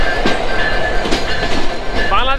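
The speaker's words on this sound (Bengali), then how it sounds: "আর এখানে আসার পর একটা স্পেশাল ক্রসিং পেলাম, যেটা হচ্ছে পঞ্চগড় এক্সপ্রেস" The luxury Panchagarh Express passenger train rolls past at a railway crossing in Bangladesh, a steady close rumble and rattle of wheels and cars with a brief squeal near the end.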